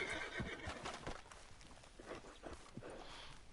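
Horse in the Red Dead Redemption 2 video game, a loud close whinny followed by hoof clip-clops and snorting on the ground, with other game sounds mixed in.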